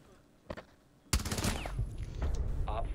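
Automatic gunfire in a team-based shooter video game, one faint shot and then a sudden, sustained rapid burst of fire, loud and close, continuing to the end alongside game effects.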